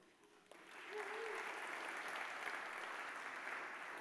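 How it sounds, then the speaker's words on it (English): A conference audience at CSS Day 2023 breaks into applause, starting around the one-second mark and holding as a steady, dense wash of clapping at moderate distance, with a faint voice briefly heard at the start. "give yourselves a round of applause"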